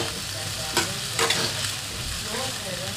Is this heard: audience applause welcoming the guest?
no